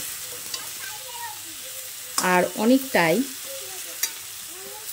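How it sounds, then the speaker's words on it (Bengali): Tomatoes and green chillies fry in a pan alongside drumstick stalks, potato and aubergine, a soft continuous sizzle with occasional stirring, while a person briefly speaks over it. "দেখুন, টমেটো ও কাঁচা লঙ্কা বেশ ভালোই ভাজা ভাজা হয়ে গেছে"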